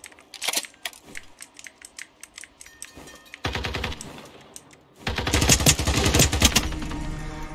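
Gunfire from the Turkish-made first-person shooter Sabotaj, with sharp single shots and short bursts at first, then sustained rapid automatic fire growing louder and denser toward the end.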